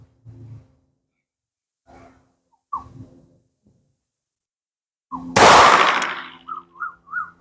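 One sharp, loud shot from a small Beretta Bobcat 21A pistol cracks out up close after a near-silent stretch broken by a few faint soft sounds, followed by a short ringing tail and light chirping noises.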